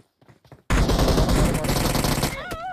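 Loud, dense automatic gunfire from a video game bursts in after a few quiet knocks and continues as a continuous rattling roar for nearly two seconds. Brief whistling tones follow as it stops.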